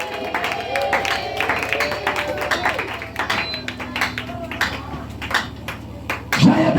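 A church congregation claps for the Lord during a French-language worship service, with irregular hand claps and crowd noise rising over sustained music and a raised voice, building to a louder burst at the end.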